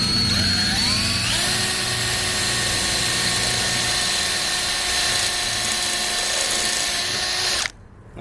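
A power drill boring holes in a 2001 Subaru Outback runs steadily and loudly for several seconds, its whine shifting pitch early on, then cuts off abruptly near the end.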